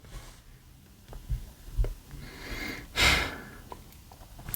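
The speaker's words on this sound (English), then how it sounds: "I'm sorry if you hear my breathing in the video. My mic is really close to my mouth" Close-miked breathing with a few soft sniffs and breaths through the nose and mouth, capped by one louder, longer exhale near the end, with no talking.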